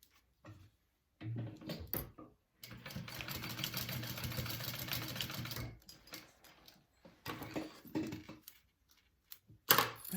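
A sewing machine top stitching a bag runs in short bursts, with one long steady whirring run in the middle and brief pauses and handling noises between the stitching spells.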